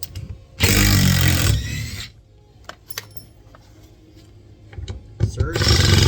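A DeWalt power tool, compared against a Milwaukee Surge, runs in two loud short bursts of buzzing motor noise, separated by quieter clicks and rattles, with a person talking in the background.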